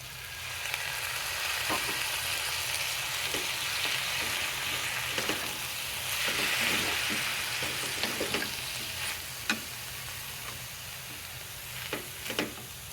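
Kashmiri chilli, turmeric and coconut fry in a hot pan with a constant hissing sizzle, punctuated by occasional sharp spoon knocks and scrapes against the pan, with no voices.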